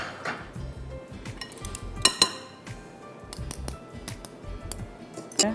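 A cake batter pan going into an oven, with sharp metallic clinks and clatters of pans and racks, a few louder knocks standing out against quiet background.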